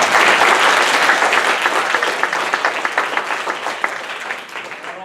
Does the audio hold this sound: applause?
yes